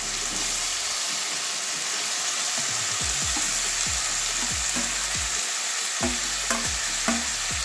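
Boiled potatoes and jackfruit stirred into a curry with katla fish head in a hot pan, a steady loud sizzle with repeated scraping strokes of the spoon that grow more frequent toward the end.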